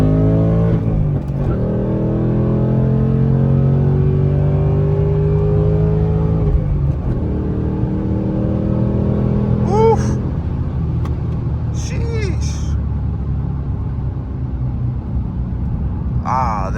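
A 2024 Ford Mustang GT accelerates hard from inside the cabin, its loud engine rising through the gears with pitch climbing and dropping at each shift, while people talk over it.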